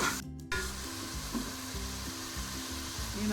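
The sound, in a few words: frying masala spices with salt and red chili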